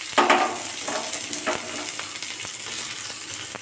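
Onions sizzle in a hot pan of oil with bay leaf and pepper for chhole paneer, while a spoon stirs them with repeated scraping strokes over a steady close frying hiss.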